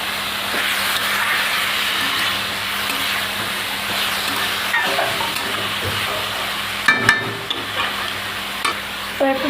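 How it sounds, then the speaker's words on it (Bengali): Leafy greens (saag) frying in a pan, a steady close sizzle with continuous stirring and a few sharper clinks of the spoon toward the end. "এবার শাকটাকে আমি ভালো করে ভেজে নেব।"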